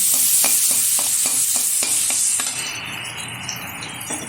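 Pomfret curry base with turmeric and chopped tomato sizzling in a pan, a spoon scraping and stirring in a steady rhythm of about eight strokes before the stirring stops and the frying hiss continues alone, close and fairly loud.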